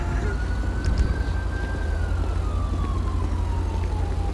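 A video game ambulance siren wails, sweeping slowly up and down in pitch, fairly loud and steady over a low rumbling engine drone.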